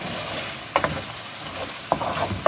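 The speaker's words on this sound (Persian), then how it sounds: "بذارید با پیاز سرخ بشه" Chicken with tomato and onion fries in a pan with a steady soft sizzle, broken by a few sharp scrapes and clacks of a utensil stirring, close by and without talk.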